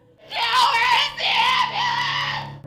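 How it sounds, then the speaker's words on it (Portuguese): A distressed woman screams and wails in long, anguished bursts, three sustained cries rising and falling, loud and raw in a tense aftermath scene. "Ela estava ao fundo, continuando basicamente a gritar e berrar"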